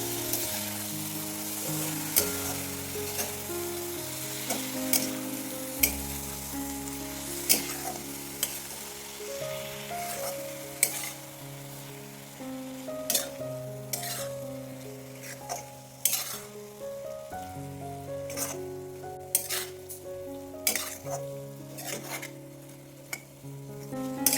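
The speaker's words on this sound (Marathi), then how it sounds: "आता आपण हे छान हलवून घेऊया वर खाली सगळा मसाला हा जवळायला लागला पाहिजे" Dried shrimp masala fries and sizzles in a pan while a spoon stirs it up and down, with repeated sharp scrapes and taps against the metal over the steady frying, no talk.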